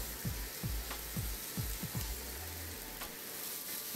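Oiled meat or fish on a very hot, clean grill plate gives a quiet, steady sizzle with a few soft low thumps from the spatula, fairly faint and with no voices.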